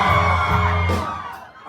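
A live band concert crowd in Taipei yells, whoops and cheers together in a loud, close burst that fades after about a second, with a brief rise again at the end.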